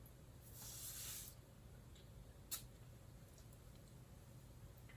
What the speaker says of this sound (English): I'll spray some on